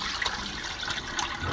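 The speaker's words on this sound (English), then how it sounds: "Give it one more rinse." Running water rinses noodles, a close, steady rush and splash lasting the whole short moment with no talking.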